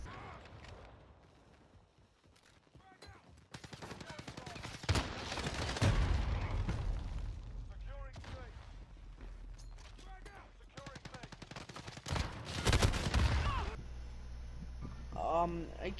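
Gunfire in the GTA Warzone video game: rapid bursts and spraying volleys of shots crackle intermittently, loud and close, with a voice talking over parts of the action.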